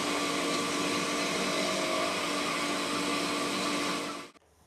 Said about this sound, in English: We'll just let the pump run, pump the tank empty.